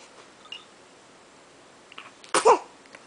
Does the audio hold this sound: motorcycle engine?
no